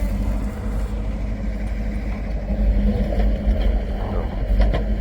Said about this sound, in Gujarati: નીકળ્યા ટ્રેક્ટરું